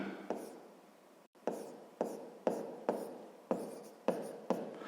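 A pen writing out a sixth-grade math answer on paper, close and soft, with about eight distinct scratchy strokes in a fairly even rhythm after one brief pause.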